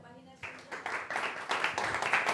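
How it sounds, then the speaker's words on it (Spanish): Audience applause at a Shaolin meditation talk, rising after a voice speaks and building into steady, moderately loud clapping from a modest crowd. "Un aplauso, por favor."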